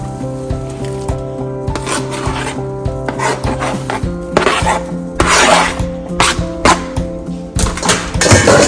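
Onion, pepper, carrot and thyme tipped into a pot of beef stew with wine, giving repeated rustling, scraping and stirring sounds over steady background music, with no talking.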